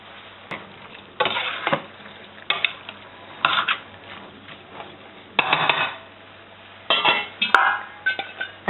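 Ground meat with tomato paste in a frying pan, bursts of sizzling and scraping stirs with clinks of a utensil against the pan, close and fairly loud.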